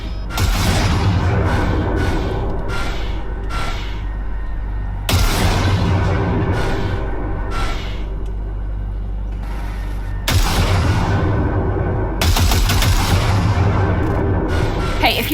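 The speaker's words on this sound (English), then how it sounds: "Fire a short burst into it" Short bursts and single shots of gunfire at a junk pile on a calibration range in the video game Cyberpunk 2077, loud repeated volleys with heavy low booms, separated by brief pauses, with a voice speaking between shots.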